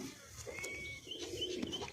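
A pair of pigeons coo softly, faint, short, low murmuring calls close by amid quiet background noise.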